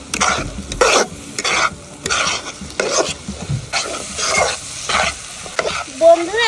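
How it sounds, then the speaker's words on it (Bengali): Egg fried rice being stirred in a frying pan, with a spatula scraping and tossing in repeated strokes over a steady sizzle, close and fairly loud, no talking. "আমি ভালোভাবে একটু নাড়াচাড়া করে নেব।"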